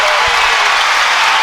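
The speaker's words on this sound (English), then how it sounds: "The Barlow crowd starts to erupt." A packed gym roars with sustained cheering and applause from the Barlow crowd at a 6A boys basketball state championship game, a loud, dense wash of noise without a break.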